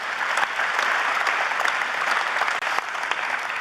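A conference audience applauds at a plenary closing ceremony of the Ukraine Recovery Conference 2024: dense, steady clapping from a large crowd that holds at an even level, with only a brief dip near the end.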